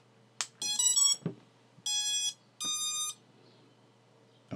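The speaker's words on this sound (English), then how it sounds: "So I am now going to plug in the battery into the connector and we'll hear it fire up." BlHeli_S ESCs on a quadcopter play their startup tones as the battery is plugged in: a quick click, a rising run of electronic beeps, then two longer separate beep sequences in a quiet room.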